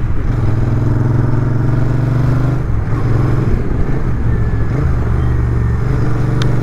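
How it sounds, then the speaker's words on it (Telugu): A Royal Enfield GT650 motorcycle rides along at steady speed, its engine a continuous deep thrum with a low rumbling drone and rushing wind, close and loud throughout, with no talk. "జిల్లు బైక్స్ రాయల్ ఎన్ఫీల్డ్."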